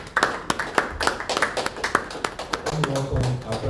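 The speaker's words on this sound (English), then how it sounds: "You guys should clap for GTEx." An audience at a property sales masterclass claps in a burst of sharp, irregular hand claps that thins out over a few seconds while people start talking underneath.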